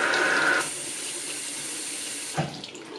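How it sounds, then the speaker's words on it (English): Hot water runs from a tap through paint sprayer parts during cleanup, a steady hissing splash lasting throughout, with a brief higher whine at the start and a small clunk near the end. "and then I just run some hot water through it"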